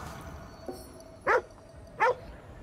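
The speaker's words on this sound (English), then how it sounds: "Yeah, dogs." A dog in Ghostwire Tokyo gives two short, clear barks about a second apart, loud over a quiet ambient hum.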